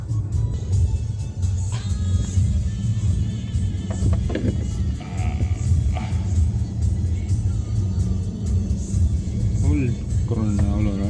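Cars in heavy traffic on the road near Gira waterfall on the way to Saputara, a continuous low engine rumble with occasional revving and passing vehicles, heard from close by while people talk.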